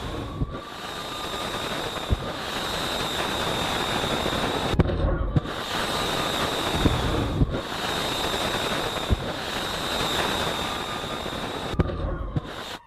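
A missile launch makes a loud, continuous rushing roar with crackling grit, broken by a few abrupt cuts into short stretches of the same sustained blast.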